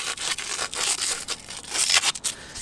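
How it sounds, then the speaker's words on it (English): Sandpaper rubbed back and forth over the cut end of a metal pipe to clear away burrs, giving a close, steady run of raspy scraping strokes with no talking. "we're just gonna sand the burrs on the end a little bit with some sandpaper"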